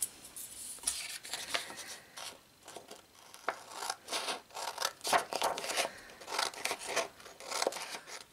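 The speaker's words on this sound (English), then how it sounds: "and cut out these pieces." Scissors cutting out fabric pattern pieces for a comforter, close and crisp, with repeated snipping strokes and rasping slides through cloth in an uneven rhythm, no talking.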